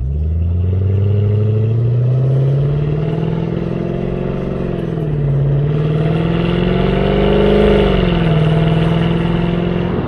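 A Mercedes E63 AMG with its centre muffler removed drives through a tunnel, its engine a loud, close, booming drone that climbs and falls through revs, echoing with no voices.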